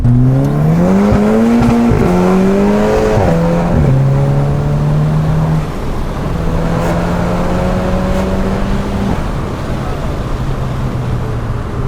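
A Volkswagen Scirocco R tuned to Stage 2+, around 350 hp, accelerates hard, its engine note climbing through several gears with sharp shifts between pulls, loud and close from inside the car.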